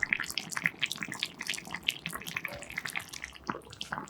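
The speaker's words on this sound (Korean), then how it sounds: "간 한번 본 후 기호에 맞게 후추 약간, 소금 한 꼬집 넣고 한 소끔 보글보글 끓여주면 기가 막힌 순두부찌개를 만날 수 있습니다" Soft tofu stew (sundubu jjigae) seasoned with pepper and salt bubbling in a pot, with quick popping and bursting bubbles in an irregular, continuous rhythm, close and fairly quiet.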